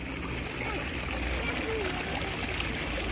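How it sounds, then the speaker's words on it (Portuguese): A small mountain stream flowing from a lake in Sierra Nevada, Spain, trickles and splashes in a steady, fairly loud wash beneath the faint voices of people talking nearby. "Olha aí o riachinho do lago."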